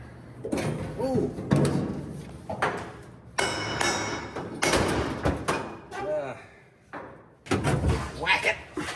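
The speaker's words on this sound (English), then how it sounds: "I need to hammer my shit in" Hammer blows tapping flooring boards into place during cabinet floor prep, several sharp thuds spaced irregularly amid shuffling and handling noise, with people talking throughout.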